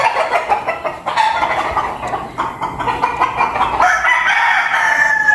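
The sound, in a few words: roosters crowing and clucking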